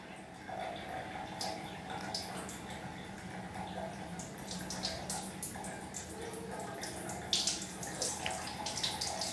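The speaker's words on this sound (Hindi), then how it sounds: "अब हमें फिर से गर्म पानी डालना है" Hot water poured over a towel wrapped on the knees as a warm compress for knee pain and swelling, a soft steady trickle and splash running for several seconds at moderate level, with faint drips near the end.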